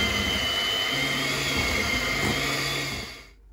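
An electric mixer whisks a cookie dough bar mixture in a bowl with a steady, even whirring drone that holds for about three seconds, then quickly cuts out.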